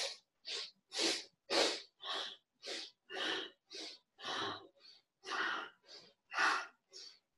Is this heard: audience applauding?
no